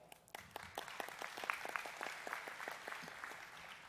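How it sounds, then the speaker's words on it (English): An audience applauds a scholarship winner at a business session, a steady round of clapping that stays fairly faint and distant, going on throughout with no talk over it. "you can clap for that."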